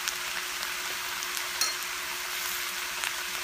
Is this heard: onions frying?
yes